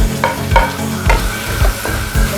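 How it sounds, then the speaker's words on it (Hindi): Tomatoes and green chilies stirred into sizzling garlic in a pan for okra curry, loud close frying hiss with a spoon scraping the pan in a steady rhythm of about five strokes. "अब हम इसमें टमाटर शामिल करते हैं और सब्ज़ मिर्चें।"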